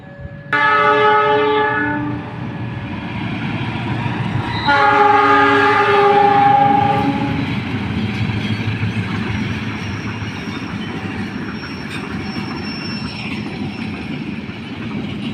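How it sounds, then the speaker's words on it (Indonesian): Papandayan passenger train hauled by a CC 206 diesel locomotive passing on straight track beside rice fields: the horn blasts twice, loud and close, over a heavy engine rumble, then wheels and cars roll by and gradually fade. "Kapapandayan dengan lokomotif CC 2061378 Depo Induk Cipinang"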